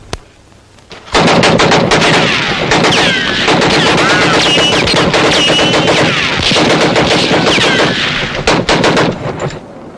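Rapid bursts of rifle and machine-gun fire crackle loudly and almost without pause in a Civil War era western battle, with shouting voices faintly under the shots.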